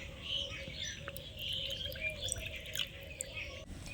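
Water is poured into a bowl of semolina and sour yogurt, giving a quiet, steady trickling splash with small drip-like flecks throughout.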